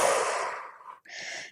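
Long slow exhale through the nose and mouth during a yoga session, close and soft, followed after a brief pause by a second shorter breath.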